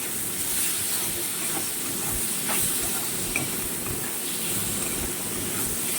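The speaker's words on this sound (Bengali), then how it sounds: "আর এটা সুন্দর করে ভাজে নিতে হবে, একদম পুরো ভাজা ভাজা করে" Meat with sugar frying in a pan, a soft steady hiss and low sizzle with faint occasional pops, quiet and continuous with no speech.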